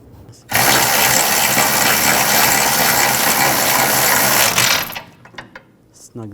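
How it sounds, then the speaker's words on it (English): A ratcheting wrench tightens the rear shock absorber bolt on a 2011-2018 Volkswagen Jetta. It gives a loud, continuous mechanical whirr lasting about four seconds, then stops abruptly, followed by a few faint clicks. "I'm just going to tighten it up with a wrench"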